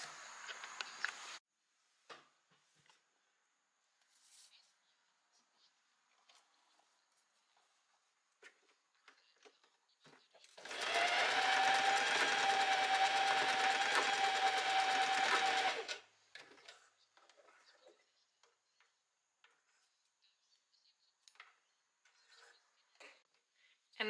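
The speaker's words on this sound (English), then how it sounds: "I'm going to the sewing machine and I'm just gonna over it a few times" A sewing machine runs steadily for about five seconds, stitching back and forth over a seam on blouse fabric, loud and close in a quiet room with faint handling noises before and after.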